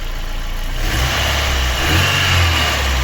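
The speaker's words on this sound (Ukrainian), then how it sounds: "Шепче моторчик, а?" A Daewoo Lanos 1.5 engine runs after a cylinder head repair, holding a steady, loud, close idle with a slight rise in revs partway through and no talking.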